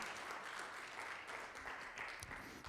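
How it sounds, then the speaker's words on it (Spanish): A church congregation applauds during a Sunday service, a faint, distant, continuous patter of clapping with no voices over it. "Den un fuerte aplauso para el Señor entonces"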